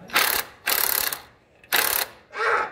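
An impact wrench rattles in three loud, close bursts with short pauses, followed by a softer fourth burst, during an engine swap on a 1988-98 Chevy truck.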